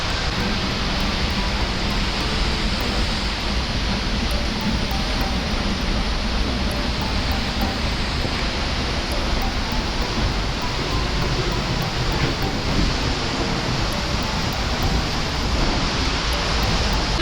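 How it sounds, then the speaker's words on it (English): A waterfall in southern Iceland, the kind you can walk behind, roars as a steady, dense wash of white noise, constant and loud throughout with no voices over it. "The waterfall, it's gorgeous and it's a lot of fun because you get to like walk behind it."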